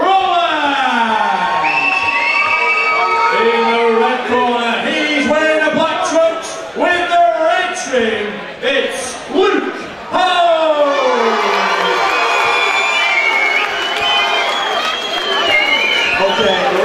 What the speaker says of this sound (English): Choose your favourite fighter and give them a cheer.